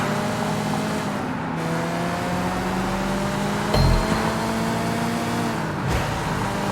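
In the open-world video game Sleeping Dogs, an old Datsun-style car drives along, its engine holding a steady droning hum. The pitch shifts slowly, with a brief thump midway, and nobody speaks.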